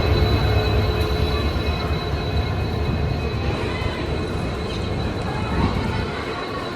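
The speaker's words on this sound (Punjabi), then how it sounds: "ਸੋ ਆ ਗਈ ਆਪਣੀ ਟ੍ਰੇਨ" A loud, steady rumble of a train rolling past nearby, a broad continuous roar with faint squeals and murmuring voices underneath.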